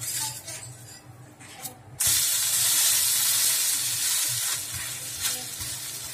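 A curry leaf and coriander dosa on a hot pan after flipping, with soft scraping and clatter at first, then a sudden loud, continuous sizzle that holds steady to the end.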